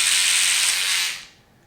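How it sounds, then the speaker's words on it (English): A Quip electric toothbrush gives off a bright, hissing buzz that runs strongly for about a second, then cuts off and leaves near silence. "this toothbrush right here, do you hear that?"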